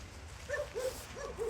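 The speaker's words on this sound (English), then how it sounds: "Also getting barked at by quite a few dogs." Dogs barking in a rural town near Pale, outside Sarajevo in Bosnia, a few faint, distant yelping barks spaced irregularly over low background noise.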